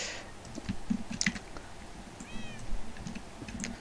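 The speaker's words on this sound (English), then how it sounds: "Get away, kitty." A cat meows in Minecraft, with a couple of short game meows over quiet background clicks and soft tapping like keyboard typing.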